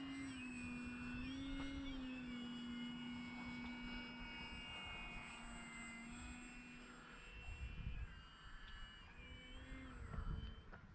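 An E-flite Maule M-7 scale RC plane drones steadily overhead, its electric motor whine shifting in pitch as it passes, continuous and moderately distant, with light wind noise near the end.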